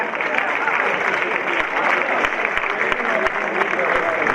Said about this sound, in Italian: E con il vostro applauso chiamo il presidente dell'associazione, Ivan.